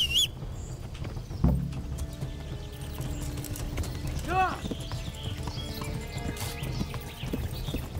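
In the video game Kingdom Come: Deliverance, hooves clip-clop steadily along as a horse whinnies partway through, with people talking over the hoofbeats.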